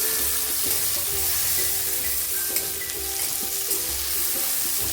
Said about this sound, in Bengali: কাঁচা লঙ্কা আর টমেটো এটাও আমি দিয়ে দিলাম দিয়ে একসঙ্গে ভেজে নেবো ভালো করে